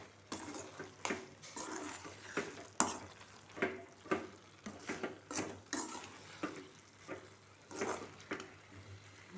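A spoon turns fried vada pieces through a thick masala curry in a pan, giving soft wet scrapes and clinks in an uneven rhythm with a faint sizzle beneath, close and fairly quiet.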